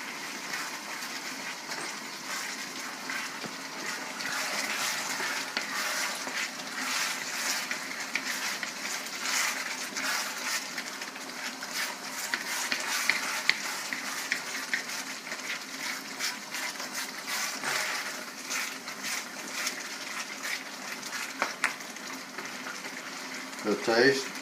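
Onion and carrots fry in a pan for Filipino pansit, a steady broadband sizzle running continuously and fairly loud for the whole stretch, with a few brief clatters near the end.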